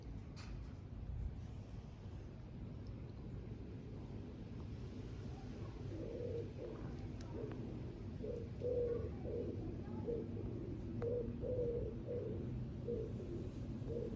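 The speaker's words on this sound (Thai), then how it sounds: "เสียงนกพิราบจ้ะ" Soft, repeated pigeon coos in short phrases over a low, steady background rumble, fairly quiet and a little distant.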